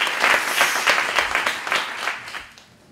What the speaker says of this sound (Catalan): mereix un aplaudiment, no?